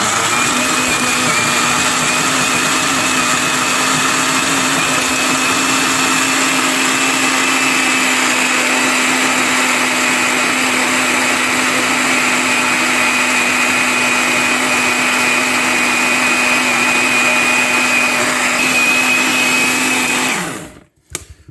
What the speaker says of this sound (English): I'm going to put this on my food processor and we're going to blitz it up into a paste